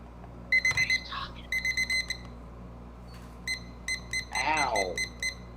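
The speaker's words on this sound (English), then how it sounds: "That beep should definitely come with a headphone warning." On a livestream, bursts of loud electronic beeping come in rapid pulsed groups like an alarm clock. A person talks in between and partly over the beeps.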